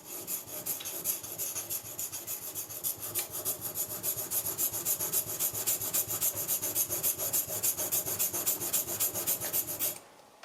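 Japanese leather plane blade sharpened on a 220 grit whetstone, rapid rhythmic scraping strokes back and forth, close and steady for about ten seconds before stopping.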